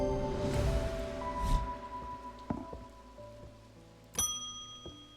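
Light rain patters on surfaces in the video game Mimicry, a soft steady wash heard close. Two or three sharper knocks or taps stand out above it.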